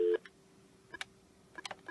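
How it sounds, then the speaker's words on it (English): Dialing tones from a Meridian desk phone on an SL100 or CS1000 business system: a short steady tone, then several separate brief key beeps spaced through a quiet room, near and clear with no talking. "Let's say I want to dial this phone next to me."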